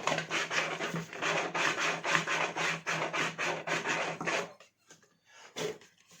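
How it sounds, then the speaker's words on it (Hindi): Sandpaper rubbed back and forth over a carved shape to smooth it, a steady rhythmic rasping of close strokes for about four seconds, then a pause broken by a few short scrapes. "अब ये सैंड पेपर है, सैंड पेपर से इसको घिस के इसको स्मूथ कर लेंगे।"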